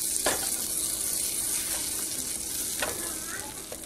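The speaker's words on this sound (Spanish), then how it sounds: "vamos a esperar a que se disuelva por completo la mantequilla o se derrita por completo la mantequilla" Butter melting in a hot pan, a steady bright close sizzle with faint crackling and a couple of soft taps from a utensil, no talking.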